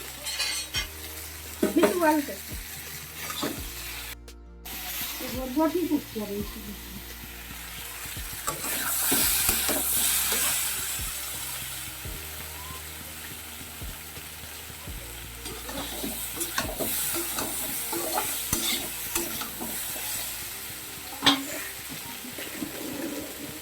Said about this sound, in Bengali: আলু যে ভাজা করে রেখেছিলাম তো ওগুলো দিয়ে দিচ্ছি